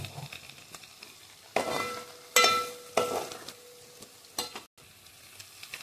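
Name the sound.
garlic frying until golden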